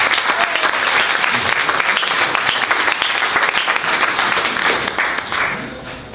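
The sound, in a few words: audience applause for Malvern Books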